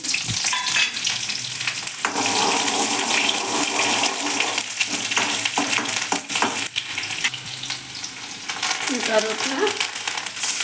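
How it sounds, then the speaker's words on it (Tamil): Steady loud sizzling of small onions and green chillies frying in hot oil, with occasional stirring scrapes, continuous throughout and close by. "கொஞ்சம் சின்ன வெங்காயம் ரெண்டு பச்சை மிளகா தாளிக்க வச்சு"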